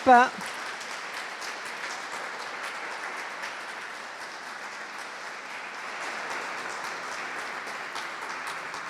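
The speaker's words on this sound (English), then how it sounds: "If we can clap." An audience claps after a talk, a sustained, fairly soft wash of applause that follows a brief voice at the start and continues evenly throughout.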